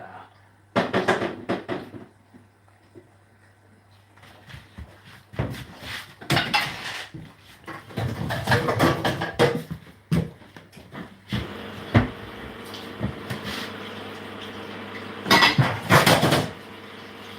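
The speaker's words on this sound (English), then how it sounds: "I'm gonna put the top on the pan" Metal pan and lid clattering in a kitchen, a series of clanks, knocks and clinks in irregular bursts, fairly close and loud, with brief voices.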